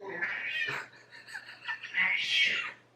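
A cat meows in drawn-out, wavering cries, two long calls close by with a brief pause between them.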